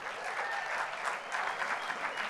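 Audience applause at an education awards event in San Diego, an even, sustained round of clapping from many hands, moderately loud and continuous with no voices standing out.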